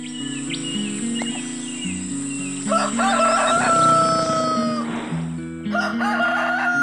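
A cartoon rooster crows loudly over music, with clucks and chirping birds around it, several calls in a row in an animated forest morning scene.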